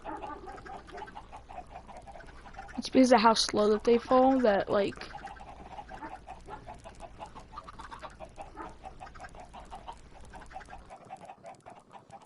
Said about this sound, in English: With just all the clucking and then the stomping from the pigs